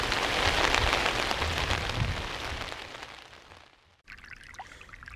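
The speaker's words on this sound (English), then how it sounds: "it's raining." Rain falling at night in the Bears Ears desert, a dense steady patter on surfaces that gradually fades, then briefly drops out before resuming more softly.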